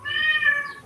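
A single short, rising-and-falling meow from a cat crying after surgery, heard fairly close and clear in a quiet indoor space.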